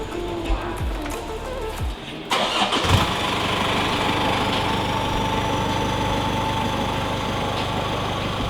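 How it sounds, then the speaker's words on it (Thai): A car engine fitted with a titanium exhaust cranks and catches, then settles into a steady, loud idle with a low rumble that continues to the end. "สตาร์ทฟังเสียงว่าฟิวเป็นยังไงเนาะ"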